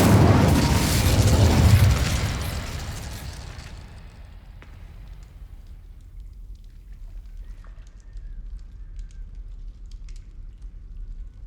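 An Incendio fire spell from Hogwarts Legacy bursts out in a loud, roaring blast of flame. It fades over a few seconds to a faint hiss, then quiet game ambience.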